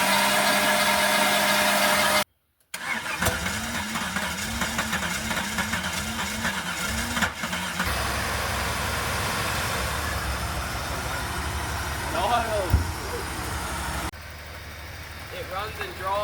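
Engine of a Holden VG Commodore ute that sat out in the weather for two years, cranking and then idling and revving in short separate cuts, steady and fairly close, with a voice talking over parts of it.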